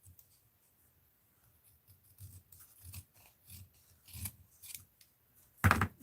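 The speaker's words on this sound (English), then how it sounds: "Let's cut here." Scissors snip through paper for a small craft project, a run of quiet, close cuts in a steady rhythm with brief pauses and a louder final snip.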